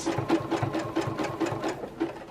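A sewing machine zigzag-stitches hexagon quilt-as-you-go blocks, running steadily up close with a fast, even pulsing rhythm and no talk.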